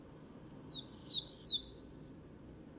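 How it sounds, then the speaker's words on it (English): Townsend's warbler singing a short series of squeaky, buzzy notes that climb in pitch, about six clear phrases close and alone over faint background noise. "Their song is a series of squeaky and buzzy notes that rise up."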